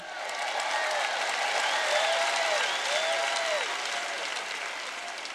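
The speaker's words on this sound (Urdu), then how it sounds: "ڈیو کے لیے بھرپور تالیاں۔" Audience applause for Dave fills the room, sustained and dense across the whole stretch, with some scattered cheering underneath.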